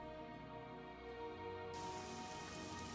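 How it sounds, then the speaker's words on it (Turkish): Steady rain falls in The Elder Scrolls IV: Oblivion, a continuous soft hiss over a low game music drone, even and unbroken throughout. "Ah yine yağmur ya."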